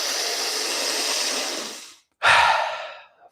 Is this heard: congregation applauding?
no